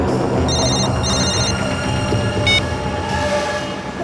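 A telephone rings in short repeated electronic bursts, two close together and then another, over a steady loud rumble like a moving train.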